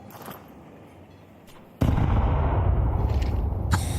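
A grenade explodes in Counter-Strike, one sudden loud deep blast after quieter background noise, followed by a sustained rumbling roar with a few faint sharp cracks.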